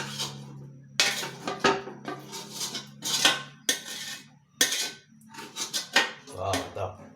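Metal utensil scraping leftover food from a frying pan (kawali), giving a series of sharp clinking scrapes in uneven bursts, close and fairly loud, with a voice talking underneath at times.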